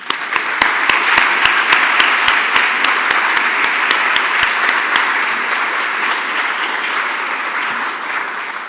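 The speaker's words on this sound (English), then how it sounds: "I'd like to give a round of applause for the staff at IMLS." An awards-ceremony audience applauds the IMLS staff, thick clapping from many hands with one loud, rhythmic clapper close by for the first five seconds, the applause then thinning and fading gradually toward the end.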